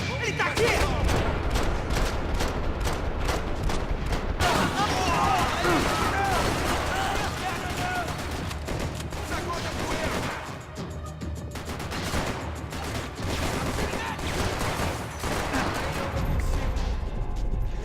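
Gunfire in the video game Max Payne 3: dense, loud volleys of shots and bursts pile up continuously with barely a pause, with heavy impacts and crashes mixed in throughout.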